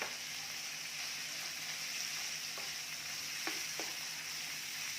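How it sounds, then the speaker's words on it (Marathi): Chopped cabbage fries in a pan with dal, a steady even hiss of sizzling held close throughout, broken by a couple of faint utensil taps. "आता जो कोबी आपण घेतलेला आहे कट करून तो घालायचा आहे"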